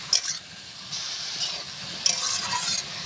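Kharkol (arum) stirred and fried in a pan, a steady sizzle with soft scraping stirs every second or so, close up with no talking.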